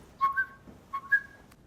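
A person whistles in imitation of a bird, two short rising-then-level whistled phrases, close and clear with nothing else heard.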